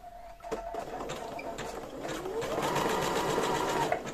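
A sewing machine stitches a bra on the wrong side, a steady close mechanical whir that builds and runs continuously for a few seconds after a brief start.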